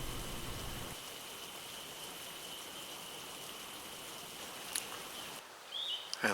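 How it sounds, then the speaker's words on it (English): Rain falling on an umbrella during a spring turkey hunt, a steady soft patter and hiss that stays even throughout, with a faint bird call near the end. "the first round of rain came through as I huddled under my umbrella"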